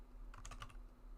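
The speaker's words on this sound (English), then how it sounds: "all you really need to do is type in deactivate and hit enter" A short burst of computer keyboard typing, several quick key clicks close by, ending in a command and a press of the enter key, with no voices.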